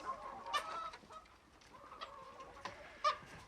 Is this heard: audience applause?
no